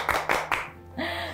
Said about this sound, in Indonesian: Boleh tepuk tangan Mas?